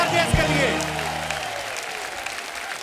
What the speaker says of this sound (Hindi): जोरदार तालियां हो जाए हमारे